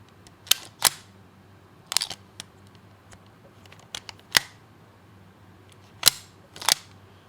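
A bolt-action rifle from 1895 is worked close up. Crisp metallic clicks and clacks of the bolt sliding and locking come in several distinct bursts, with no other noise between them and no speech.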